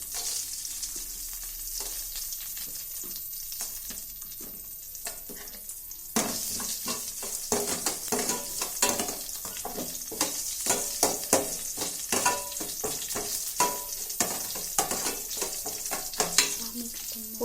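Dried red chillies frying in hot oil in a pan, with a steady close sizzle and repeated scraping and stirring strokes that grow busier partway through.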